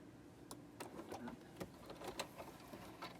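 A sewing machine stitches a narrow eighth-inch seam around the edge of a quilt, running off the fabric edge with a quiet mechanical whir and irregular clicking ticks.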